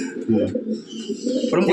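A Teddy pigeon, a wing-clipped bird kept in a home loft, gives a brief, close coo that overlaps a person talking.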